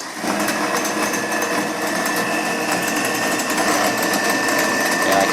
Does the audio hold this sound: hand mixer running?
yes